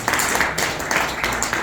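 Comedy-show audience applauding, a short burst of dense, close clapping that holds steady and fills the room.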